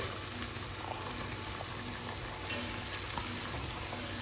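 Chopped onions sautéing in a pan for bread chili, a dense, even sizzle held at a steady faint level with small stirring knocks now and then, no voices present.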